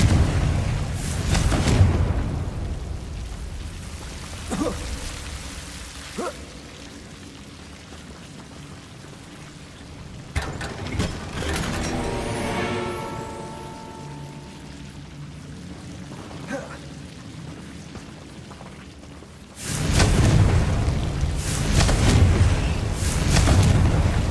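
Confringo fire-blast spells explode in the Hogwarts Legacy video game: loud rumbling bursts open the scene, quieter crackles and a ringing tone follow in the middle, and heavy blasts return near the end.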